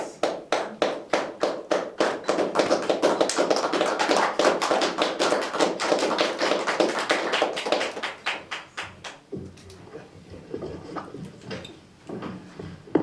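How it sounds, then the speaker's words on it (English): Audience applause at a university report release during a Davos World Economic Forum side event, a dense, steady clapping from a room of people lasting about nine seconds before thinning into scattered claps. "A round of applause."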